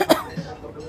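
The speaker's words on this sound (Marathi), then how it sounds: "सॉरी, मध्येच खोकला आला." A single short cough, sharp and close, bursts out at the start, followed by a faint trailing breath; no speech around it.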